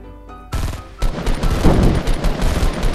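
Rapid assault rifle fire in Fortnite, a loud close burst of automatic shots in quick succession with dense cracking reports after a short lead-in.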